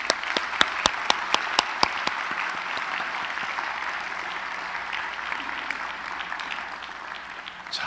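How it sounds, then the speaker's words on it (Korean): A church congregation applauds the baptism candidates with a sustained round of clapping that opens with a few sharp, distinct claps and holds steady, filling the room before slowly tapering off. "우리 미리 한번 축하의 박수 한번 보내겠습니다."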